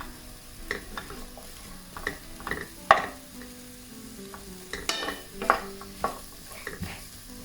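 Food sizzles softly in a pan while a utensil stirs and scrapes, with intermittent clinks against the metal, lightly sautéing ingredients for devilled chicken.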